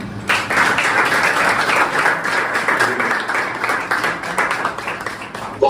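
Sustained audience applause welcoming a guest speaker at a career counselling webinar event, dense steady clapping from many hands lasting several seconds, with no talk over it.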